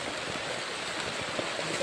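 Rain falls steadily on a mountain trail, making a soft, even hiss of drops with no voices.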